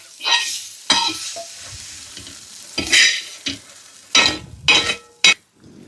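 Tandulja (amaranth) greens bhaji being scooped from a pan, with several separate scraping and clinking strokes of a spoon against the metal, some sharp and loud, spaced by quiet pauses.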